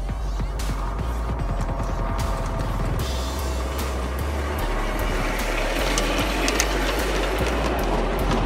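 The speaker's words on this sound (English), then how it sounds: "Oh yeah, miniature train." A miniature train runs along its track at an outdoor display, producing continuous clattering and rumbling with ratcheting mechanical clicks and a low hum over several seconds, steady and fairly close.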